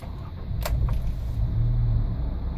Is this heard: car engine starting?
yes